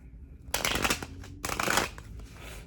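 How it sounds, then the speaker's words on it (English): Two quick bursts of tarot cards being shuffled close up, a riffling flutter with a short pause between them. "My shuffling has been high today"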